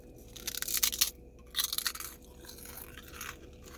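Loud close crunching of Epic pork rinds, light fluffy crispy snacks, in two irregular bursts of brittle crackling and chewing, with no talk.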